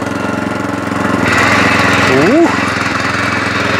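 A Loncin LC-1200 walk-behind tractor engine runs loudly and roughly, rising in pitch as gears are shifted, with a short grunt from a man near the end.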